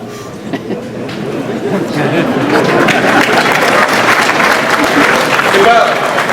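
An audience at a speech in a Hilton ballroom applauds, a broad wash of clapping that swells and holds steady for several seconds, with chatter and voices mixed in.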